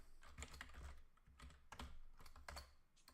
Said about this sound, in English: So I'm just going to go ahead and type this in my code.